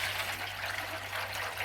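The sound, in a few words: water being poured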